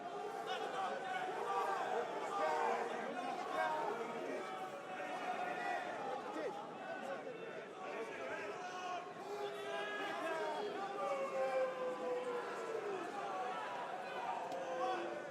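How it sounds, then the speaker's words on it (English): Arena crowd at a Bellator heavyweight MMA fight chanting for fighter Kongo, a dense, steady roar of many voices filling the whole stretch with rhythmic swells, loud and continuous throughout. "How much can Kongo thrive off this crowd as well as they chant his name?"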